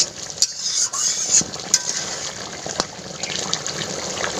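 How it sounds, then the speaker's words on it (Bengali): Chicken legs stir-fried in a pan in a village kitchen: a moderate sizzle under repeated scraping and clinking of a utensil against the pan, with sharp taps scattered across the few seconds. "এবার আমি পাটাকে কষতে দেবো"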